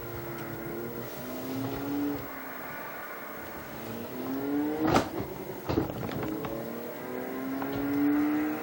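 In a racing video game, a four-wheel-drive sports car engine revs and climbs through the gears, rising and dropping in pitch with short breaks at each shift. It stays steady and fairly loud with no talking.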